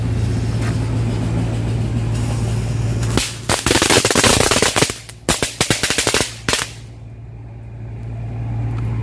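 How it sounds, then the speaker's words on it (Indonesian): Chili firecrackers (petasan cabai) set off outdoors go off in a rapid crackling string of sharp bangs lasting about three seconds, with a steady low hum behind them before and after. "Sekarang petasan cabai. Jadi buat teman-teman yang belum tahu, ini suaranya seperti petasan prepet ya."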